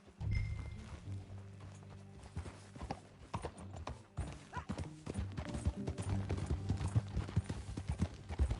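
Horse hooves clip-clopping at a riding pace in a PS4 video game, rhythmic repeated hoofbeats over a low tonal game backdrop, quiet and fairly even throughout, with no talk.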